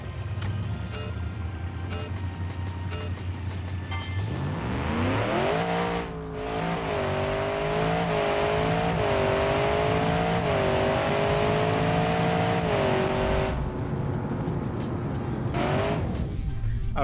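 A rear-engined 7.8-liter GM drag race car in BeamNG.Drive idles low, then launches and accelerates hard with a loud, rising engine howl and gear-change steps, holding a strained roar before cutting off near the end.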